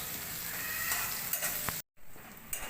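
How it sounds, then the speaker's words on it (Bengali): Crushed garlic with a green chili sizzles and crackles steadily in hot oil in a pan, fried until reddish-brown for a Bengali village-style vegetable dish, with a few louder spatters and a brief gap near the end. "এবার রসুনটাকে ভালো করে লাল লাল করে ভেজে নেব।"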